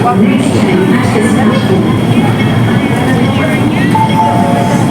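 A Hong Kong MTR train at Choi Hung interchange station, its loud continuous rumble and rail noise filling the platform while a person talks over it.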